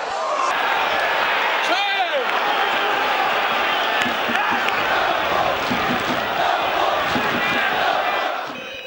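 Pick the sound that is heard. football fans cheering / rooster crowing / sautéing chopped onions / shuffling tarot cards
football fans cheering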